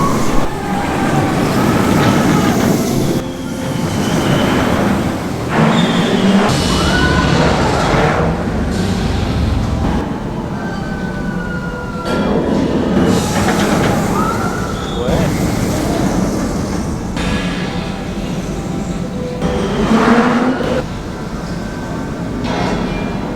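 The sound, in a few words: Taron roller coaster ride at Phantasialand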